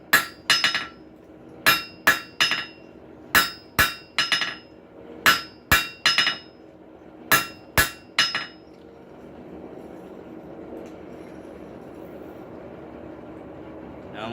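Hammer beating hot steel on an anvil while forging a center punch: about sixteen sharp ringing blows in pairs and short bursts, loud and close, then quiet room noise.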